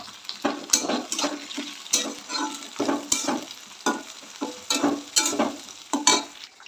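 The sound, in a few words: onion, garlic and tomatoes frying in a pan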